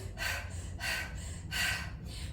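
Three slow, shallow breaths drawn high into the upper chest during a workout breathing exercise, each a soft, airy rush of about half a second, close and fairly quiet, with no talking.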